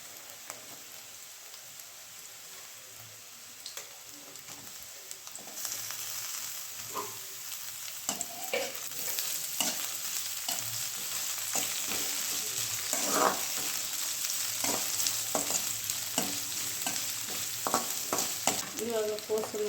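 Carrot and capsicum strips sizzle steadily as they stir-fry in a hot pan for noodles, with a constant hiss and scattered spatula scrapes and taps that grow louder partway through; close and continuous with no talking.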